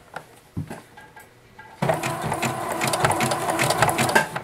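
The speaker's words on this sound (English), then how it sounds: "I'm going to start right about here and do a zigzag stitch." A sewing machine zigzag-stitching along clothesline for a trivet, starting after a few quiet clicks and handling sounds, then running in a fast, steady, loud mechanical chatter up close.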